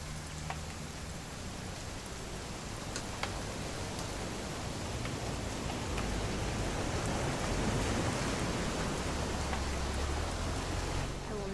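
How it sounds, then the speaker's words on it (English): Steady rain from the video game What Remains of Edith Finch falls evenly throughout, a dense hiss of droplets with scattered small ticks and a low rumble underneath. It stays constant and moderately faint, with no voices. "It's gonna rain the whole weekend, isn't it?"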